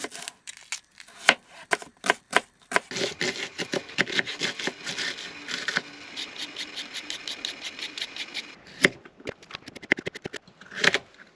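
A slicer chops through a knob of butter inside a campervan, giving a series of sharp clicking taps and rattling strikes, irregular at first, then a quicker run of rapid chops before a few final knocks.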